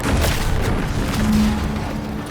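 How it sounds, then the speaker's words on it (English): A deep, rumbling boom from an explosion in the video game The Outer Worlds 2 swells at once and lingers as a dense low roar, heard alone without talk. "What's that? An explosion?"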